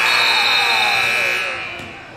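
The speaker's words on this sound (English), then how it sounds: "They heard the shot clock buzzer, but it was so close" Shot clock buzzer at a women's NAIA college basketball game between Texas Wesleyan and SAGU: a loud, sustained electronic buzz that fades slightly toward its end, with crowd noise underneath.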